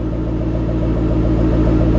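A stock 2012 Ford Shelby GT500 with 6,000 miles idles with a loud, steady, deep exhaust rumble, heard close from behind the car with no talking.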